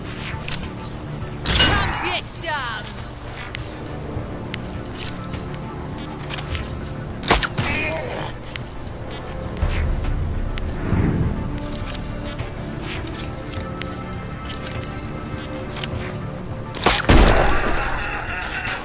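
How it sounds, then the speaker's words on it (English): An EMP grenade going off in the video game Mutant Year Zero, with sharp bursts and crackling electronic blasts scattered over a busy game soundscape of impacts and noise. "So he throws an EMP grenade, disables him"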